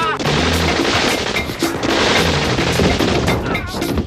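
Rapid gunfire from a drive-by shooting in the 1995 Friday movie trailer, a loud, continuous burst of machine-gun-like shots with crashing impacts running through the whole moment.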